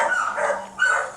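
A Great Dane barking from inside a cage, two loud close barks with a brief pause between them.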